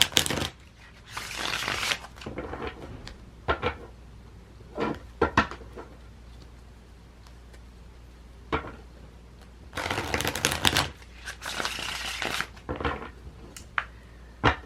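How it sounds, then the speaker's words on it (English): Close, crisp riffling and shuffling of tarot cards in several bursts, separated by quieter gaps with soft taps and handling noises. "I'm going to go ahead and shuffle the cards"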